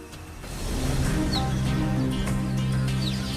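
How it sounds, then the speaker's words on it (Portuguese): A mother cheetah gives short, high bird-like chirps, two brief calls standing out faintly over a steady low rumble of outdoor background noise. "ela emite um som que soa como um pássaro"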